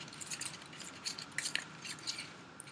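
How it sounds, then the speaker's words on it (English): Metal spoon stirring paint-covered marbles, a series of quiet, irregular clinks and rattles as the glass balls knock against each other and the spoon, close and faint. "I'm gonna stir them to make sure they are all painty."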